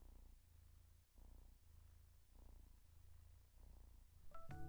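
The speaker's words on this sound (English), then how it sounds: "She's definitely purring." A cat purrs close by, a soft, low, rhythmic rumble that rises and falls with each breath, quiet overall, with a brief brighter clatter at the very end.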